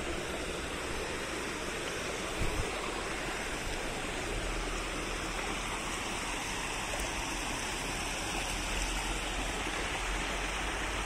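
A river stream flows at night in southern Cianjur, a dense, unbroken rush of water that holds steady and fairly close for the whole stretch, with no talking.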